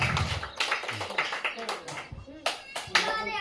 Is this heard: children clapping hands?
yes